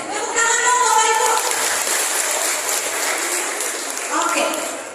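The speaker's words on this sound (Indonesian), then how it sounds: "Tepuk tangan dong Bapak Ibu." Clapping from parents and teachers at an elementary school activity, fairly loud and close, mixed with children's chatter and voices throughout, fading slightly toward the end.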